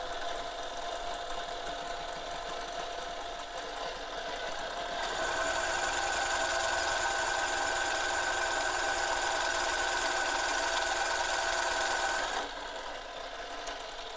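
A step drill bores through a carbon fiber back plate for an air-cooled PC build, its loud steady whine rising after a few seconds of lower motor hum, running continuously for about seven seconds before easing off.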